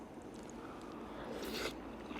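Someone chews a mouthful of beef bulgogi with shiitake and oyster mushrooms, shredded green onion and onion, with soft, close, quiet wet bites and a brief crunch partway through, no talk.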